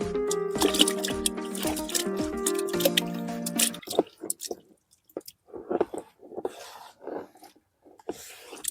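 Slurry tipped into a ten-litre bucket of water, giving wet splashing and dripping plops with squishy pours, dense at first and then in scattered bursts; no voices are heard.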